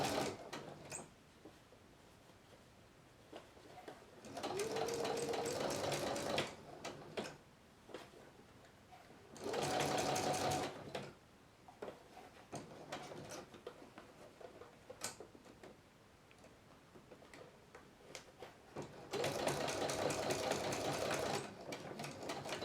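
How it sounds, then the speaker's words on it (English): A sewing machine runs a long 5 mm basting stitch along a plush shirt sleeve in three short bursts of fast, even whirring, with quiet ticks and handling noises between runs and a voice speaking softly. "now I'm going to sew the sleeve, and again I'm doing a basting stitch, so it's 5 millimeters long"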